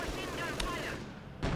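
A short burst of battlefield gunfire from Company of Heroes 2, with a T-34 tank, an MG42 machine gun and a mortar in action, giving rapid sharp cracks and a heavier thud near the end under a faint voice.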